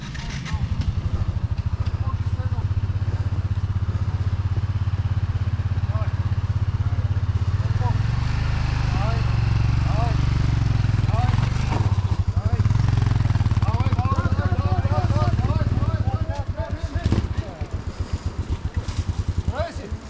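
Off-road motorcycle engine running loudly nearby, a deep steady rumble with revving swells and clattering, while people talk over it.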